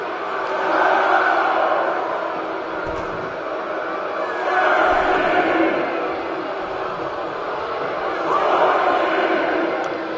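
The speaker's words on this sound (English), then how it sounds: "And the crowd counting." Wrestling crowd at an MVWF Rising Dragons independent show, a loud arena roar swelling in three rhythmic surges about every two seconds, like fans counting along in unison.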